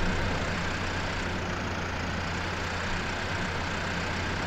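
Tractor and combine harvester engines in Farming Simulator 2015 drone steadily as a continuous, even low hum with a constant tonal band, loud and unbroken for the whole stretch with no talk.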